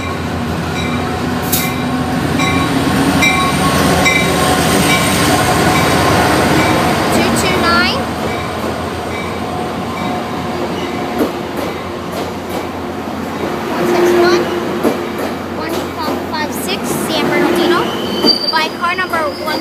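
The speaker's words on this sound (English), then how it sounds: "Eyeball Metrolink train number 366." A Metrolink commuter train passes in Los Angeles, its wheels squealing in sustained high metallic tones over a steady rolling rumble, loud and close throughout, with brief talk in the background.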